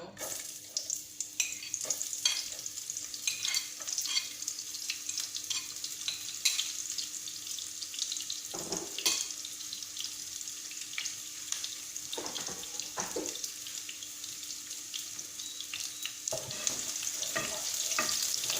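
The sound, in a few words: diced onion frying and being stirred in a pan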